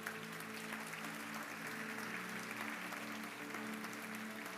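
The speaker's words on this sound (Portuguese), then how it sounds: "Você pode aplaudir Jesus por isso?" A church congregation applauding during a Portuguese-language service, steady clapping from many people heard faintly and somewhat distant, mixed with a low sustained musical tone underneath.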